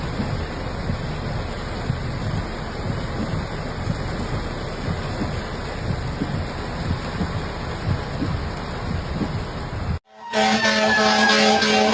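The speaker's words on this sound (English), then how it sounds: "the heavy rain was causing localized flooding" Heavy rain pouring steadily during a thunderstorm in Ottawa, a dense constant hiss that cuts off abruptly near the end, followed by a different noisy sound.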